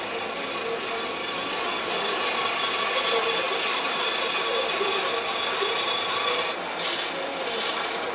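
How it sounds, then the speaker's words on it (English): Wood being cut by hand with a saw or rasp in an upholstery workshop, a steady rough rubbing rasp that runs nearly unbroken at moderate loudness with a brief pause near the end, and no talking. "that's my son in there cutting a lump of wood"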